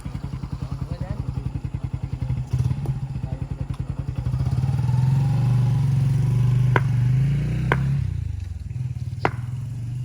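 A motorcycle idles with a steady chopping engine putter, then revs louder near the middle before settling, with a few sharp thuds and people talking over it during an outdoor cricket match.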